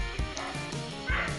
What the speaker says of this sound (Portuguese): participações especiais dos cachorros, muito bom